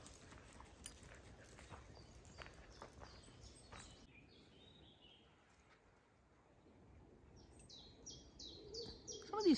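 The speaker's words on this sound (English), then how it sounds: "Peaceful wood with lots of bird noise." Birds chirp and sing in a quiet pine wood, faint scattered calls and whistles at a distance, with soft footfalls crunching along a path in the first few seconds.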